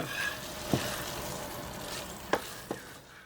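Squash risotto being stirred in a pan makes a steady soft sizzle, with a few distinct spoon knocks against the pan.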